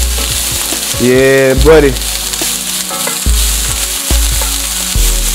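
Walnuts sizzle steadily in a pan over medium-high heat with a couple of dashes of salt, a loud continuous frying hiss under a man's brief speech and occasional stirring.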